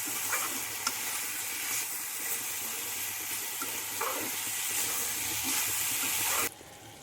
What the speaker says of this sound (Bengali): মশলার সঙ্গে সবজিগুলো মিশিয়ে নিচ্ছি